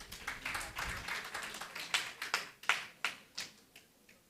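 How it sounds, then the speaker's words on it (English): Audience applause at an education panel event, a burst of scattered hand clapping from a modest crowd that thins into a few separate, distinct claps before fading out. "Please, let's clap for her, please."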